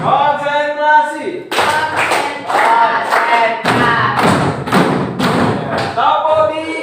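A classroom of students claps in rhythm during a clap game, several crisp group bursts of clapping in a patterned sequence, with a speaking voice heard at the start and end.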